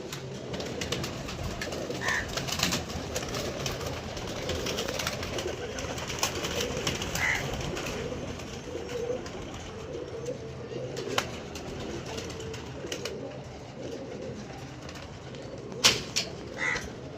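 Pigeons cooing, with soft low throaty coos repeating over a busy, fairly constant background of bird noise, and faint scattered chirps and occasional wing sounds.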